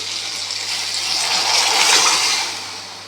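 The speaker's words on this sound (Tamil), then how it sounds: "புளி, மல்லித்தூள், மிளகாத்தூள் கரைச்சி வச்சுருக்கத போட்டு ஊற்றியாச்சு." Liquid made from tamarind, coriander powder and chilli powder pours into a pan in one steady gushing stream that swells and then tapers off, loud and close, with no talking.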